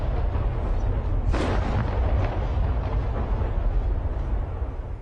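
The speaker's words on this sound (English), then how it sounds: "For half an hour, NATO airstrikes blasted targets near Colonel Gaddafi's compound." NATO airstrike explosions bombarding central Tripoli: a continuous heavy rumble with a sharp blast at about one second and further dull booms rolling through, dense and loud throughout.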